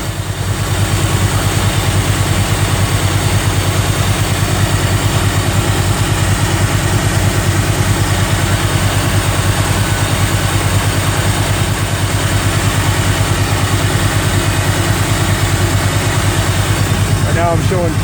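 Small-block Chevy engine fitted with an Edelbrock #3704 TBI intake manifold, timing set far advanced, idling steadily with a loud, even, low rumble throughout, up close.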